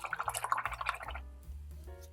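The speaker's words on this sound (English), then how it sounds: "So now I'm going to wash my brush" An acrylic paint brush being swished and rinsed in a container of water: a quick run of rhythmic little splashes and drips, close and fairly quiet, then a brief hush with a soft low rumble.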